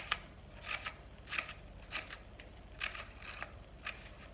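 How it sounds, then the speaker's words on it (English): Scissors snip through paper in a craft activity, a series of crisp, close cuts in irregular bursts of roughly one to three snips, with quiet pauses between them. "We can make big cuts, small cuts."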